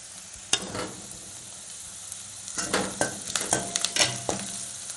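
Raw banana poriyal sautéing in a pan with curry leaves and spices, a steady close sizzle with scattered sharp clatters and stirring scrapes from a spoon, no voices.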